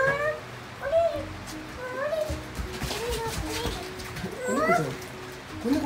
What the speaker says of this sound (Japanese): 子猫ちゃんおった、子猫ちゃんおった。